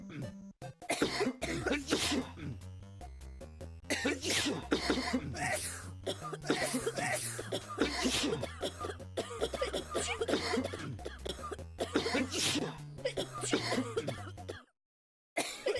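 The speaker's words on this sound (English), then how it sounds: "Everyone is triggering a cough." Repeated cartoonish cough sound effects fire off in a video game, triggered by Twitch chat, one after another in quick succession over a steady game soundtrack with bass notes, packed densely through most of the stretch before a brief silence.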